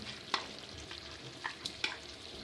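A full kilogram of onions sizzles quietly in a pot on the stove, with a soft steady fry broken by a few sharp clinks and scrapes of stirring.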